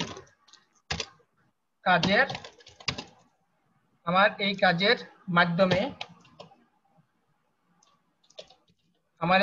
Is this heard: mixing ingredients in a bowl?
no